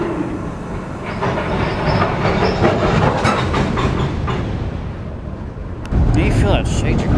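MP15DC switcher locomotives shoving rail cars around a repair shop yard, a loud rumbling diesel drone with rolling clatter and hiss, heard up close while someone talks over it.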